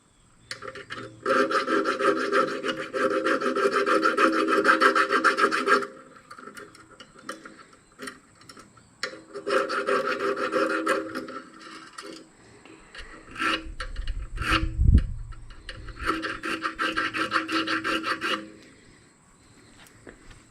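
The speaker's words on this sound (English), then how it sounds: "You might be able to see what I was filing." A hand file rasps against the end of steel brake line tubing in steady back-and-forth strokes, loud and close, in three long bursts separated by brief pauses and a few light knocks.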